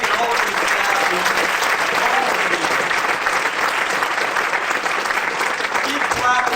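A big round of audience applause for a chemo theater crew and staff at a film event, sustained, loud and dense from many hands, with a voice faintly present underneath.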